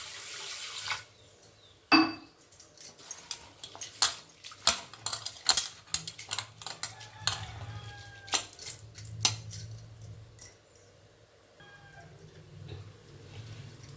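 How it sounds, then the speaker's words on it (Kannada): Moong dal lentils being washed in water in a kitchen, with splashing, pouring and clinking of a metal vessel in short irregular bursts, close and moderately loud, with no talking. "ನೋಡಿ ಹೆಸರು ಬೇಳೆನ ಈಗ ತೊಳ್ಕೊಳ್ಳೋಣ. ಇದನ್ನು ಬೇಳೆನ ಯಾವತ್ತೂ ಚೆನ್ನಾಗಿ ತೊಳ್ಕೊಬೇಕು ನೀರಲ್ಲಿ."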